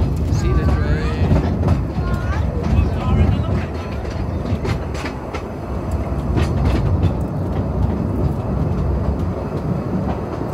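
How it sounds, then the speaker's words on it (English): Steam train on the Groudle Glen Railway, a heritage narrow-gauge line, rumbling and clattering steadily close by for the whole stretch, with a voice and other talk heard faintly over it. "See the train."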